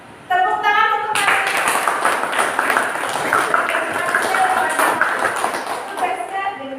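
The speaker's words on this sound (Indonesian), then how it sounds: "Tepuk tangan untuk" Class applause in an Indonesian school lesson, clapping starting after a brief moment and continuing steadily and fairly loud, with voices mixed in.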